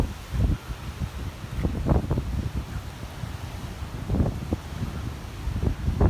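Strong wind buffets the microphone in loud, uneven gusts, with a steady roar underneath and occasional rustling.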